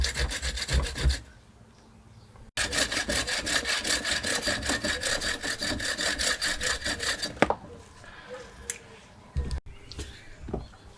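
A saw cuts through a large bonsai branch, rapid rhythmic rasping strokes of close, loud wood sawing in two long bursts, separated by quiet pauses and a sharp knock.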